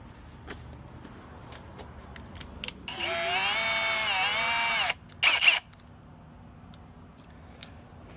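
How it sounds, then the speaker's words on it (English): Power drill boring a hole for a Pro-Lok latch guard on a door, one steady loud whine of about two seconds, then a brief second burst, close by with no talk. "Drill a big enough hole for that."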